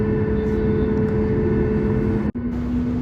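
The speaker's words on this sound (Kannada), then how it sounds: "ಫ್ಲೈಟ್ ಮೂವ್ ಆಗ್ತಾ ಇದೆ ಅಂದರೆ ಹೋಗ್ತಾ ಇದೆ ಇವಾಗ ಇಲ್ಲಿದ್ರೆ ಸ್ಪೀಡ್ ಜಾಸ್ತಿ ಆಗುತ್ತೆ" An airplane moves along the runway before takeoff, heard from inside as a steady, loud engine drone with a low tonal hum. The drone cuts out for a moment near the end, then resumes.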